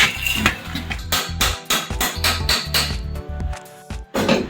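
Repeated sharp metallic strikes ring out, a body hammer banging on sheet metal in an uneven rhythm, close and loud.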